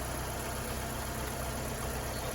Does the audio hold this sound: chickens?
no